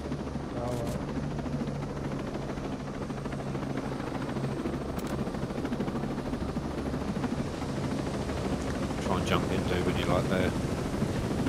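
A helicopter in Tom Clancy's Ghost Recon gives off a steady, droning rotor and engine hum that holds through the whole stretch, with voices talking over it.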